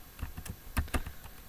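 Faint, close keystrokes on a computer keyboard as code is entered, a short irregular run of clicks with two stronger taps near the middle, no speech.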